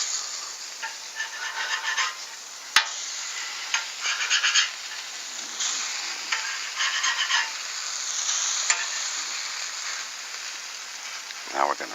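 Apple pancake dough frying in a pan with apple pieces, a soft steady sizzle with occasional stirring and scraping clicks, close and moderately quiet throughout.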